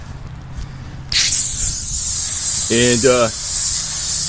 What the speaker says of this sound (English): the simplest thing is to just douse it with a little bit of water.